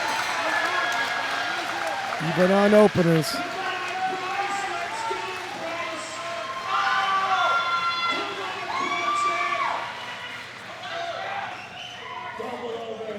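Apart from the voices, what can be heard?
crowd cheering for powerlifter at deadlift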